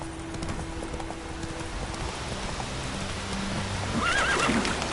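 A horse in a PS4 video game whinnies loudly near the end while hooves clip-clop steadily under rainy ambience.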